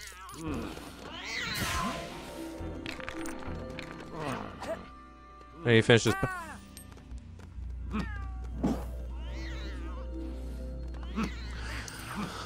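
A cartoonish cat meows repeatedly in the LEGO Harry Potter video game, rising and falling cries mixed with game effects and a low hum, while a person talks over it.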